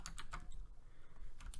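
Computer keyboard typing out Python code, with quick irregular bursts of close keystrokes and no voices.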